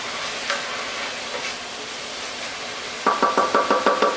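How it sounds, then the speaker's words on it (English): Freshly chopped vegetables and herbs with coarse salt in a pot of hot oil, with a quiet sizzle and then a quick run of sharp knocking stirs against the pot, close and without talk. "Let it heat up and you can add all your veggies in"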